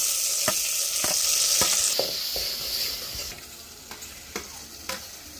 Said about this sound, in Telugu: పచ్చిమిర్చి ఆనియన్స్ అయితే బాగా ఫ్రై అయిన తర్వాత టమాటాలు వేసుకొని కలిపి చేసుకోవాలి.